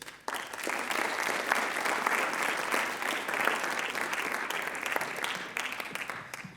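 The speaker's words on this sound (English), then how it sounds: "thank you for giving Grace a round of applause" A school audience at a student writers' expo gives a student reader a warm round of applause, a dense patter of many hands that starts abruptly, holds steady and then thins out at the end.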